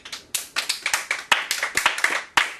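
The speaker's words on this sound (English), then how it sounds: "Yes, clapping time, yes." A handful of audience members clap after a presentation ends, sharp separate claps in uneven bursts, close and fairly loud, sparse rather than a full crowd, with no speech over them.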